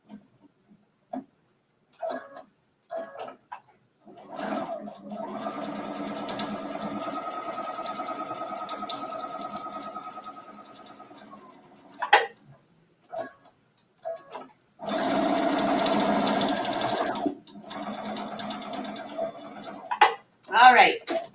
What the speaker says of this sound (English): I stitched all the way around.